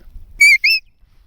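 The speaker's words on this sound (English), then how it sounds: "We just need to get her used to the whistle." A sheepdog training whistle gives two sharp, loud, high blasts in quick succession, the first level and the second slightly rising, against near silence.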